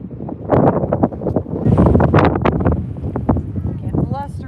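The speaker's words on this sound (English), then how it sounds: "Getting blustery." Gusty wind buffets the microphone in loud, uneven blasts that rise and fall over several seconds outdoors, with no clear speech.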